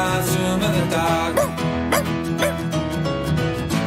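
A cartoon dog barks and yips in rhythm with an animated series theme tune, short sharp barks sitting on top of a loud, dense musical backing track.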